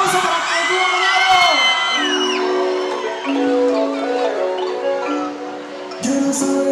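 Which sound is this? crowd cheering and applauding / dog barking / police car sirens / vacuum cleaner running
crowd cheering and applauding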